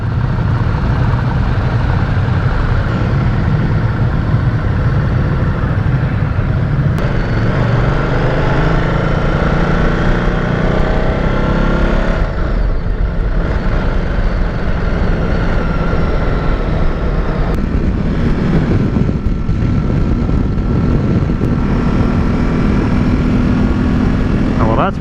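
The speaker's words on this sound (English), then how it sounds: "Today I am on a 2017 Ducati Multistrada 950" A 2017 Ducati Multistrada 950 touring motorcycle being ridden, its engine a steady loud drone mixed with wind rush, continuous throughout with slight shifts in pitch.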